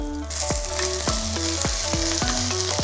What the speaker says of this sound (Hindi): इसको अब हम मीडियम फ्लेम पे फ्राई कर रहे हैं।